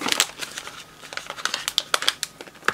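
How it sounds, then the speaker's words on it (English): Plastic bag crinkling as a mail parcel is unpacked on a test-gear bench, a run of irregular close crackles and rustles over about three seconds with no talking. "I'm not sure they felt the need to put it inside a plastic bag as well."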